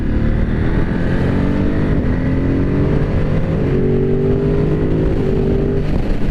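A 2022 Ducati Monster 950 engine droning loud and steady while riding, with rising and falling engine tones as the bike gets under way and wind rushing throughout.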